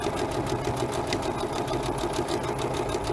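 A sewing machine runs steadily in a close, continuous mechanical whir while stitching a free-motion embroidered appliqué for fabric bunting, with no pauses or talk.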